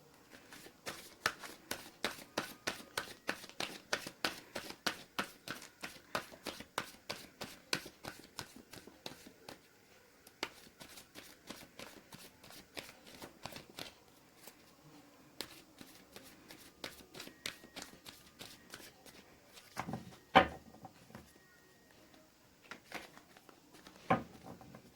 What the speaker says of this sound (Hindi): तो ये हो गई है गाइस कार्ड्स की सफलिंग